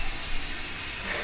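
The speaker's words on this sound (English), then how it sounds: "I will take the hairspray and just kind of spray all along the hair" Hairspray from an aerosol can hisses steadily along a child's hair for a princess bun, close and continuous with no pauses.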